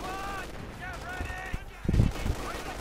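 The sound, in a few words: machine gun fire in Company of Heroes 2 video game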